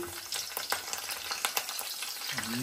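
Mustard seeds and dried red chillies fry in hot oil for a tempering, crackling and popping in a busy, close sizzle with sharp irregular pops over a steady hiss and no talking.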